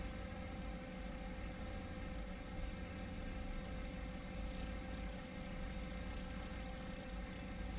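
A 408 LS engine fitted with new 100 lb/hr fuel injectors idles off the throttle in a steady, close, continuous drone that holds level throughout, with no talking.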